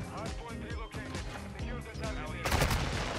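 Shotgun slug rounds fire in a video game shooting match, the booming shots mixed with rapid gunfire and a louder burst near the end, with players talking over the action.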